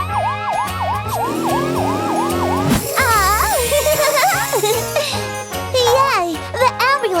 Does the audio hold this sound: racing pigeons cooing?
no